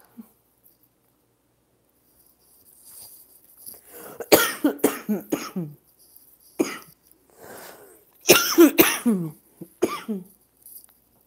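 A person coughs repeatedly in harsh clustered fits, two bouts of several coughs each, close and loud with quiet in between.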